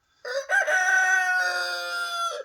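A rooster crows once, a loud, close, drawn-out cock-a-doodle-doo lasting about two seconds, alone with no talking.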